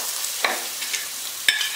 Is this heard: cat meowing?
no